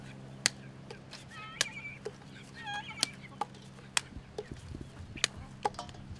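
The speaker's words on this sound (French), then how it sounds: "La pâtée des poules." Hens on a village farm near Mont Blanc cluck and cackle while being fed a mash of bread soaked in water, with sharp pecking taps and low murmuring clucks nearby in a quiet setting.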